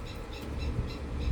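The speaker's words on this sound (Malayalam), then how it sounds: "കിളികളെല്ലാം കൂടെ കരയുന്നു" Faint birds call in a Kerala vegetable garden, giving short, soft, repeated hoot-like notes over low background rumble.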